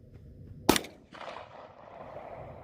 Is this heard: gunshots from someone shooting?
yes